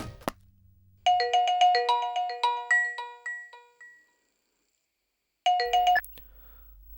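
A phone rings nearby with a bright electronic melodic ringtone: one long run of chiming tones, a pause of silence, then a shorter burst that cuts off as the call is picked up.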